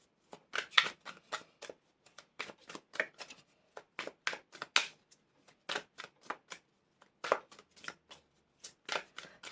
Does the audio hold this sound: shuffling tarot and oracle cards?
yes